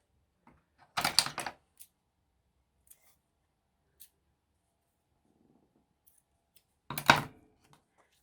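Paper is trimmed with scissors in a quiet room. Two short bursts of crisp snipping are close and clear, with faint small taps in between.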